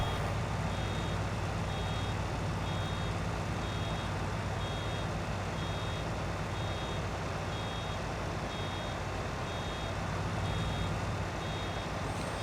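Steady reversing beeps from a farm vehicle in a farming video game, evenly spaced and repeating throughout over a constant loud engine rumble.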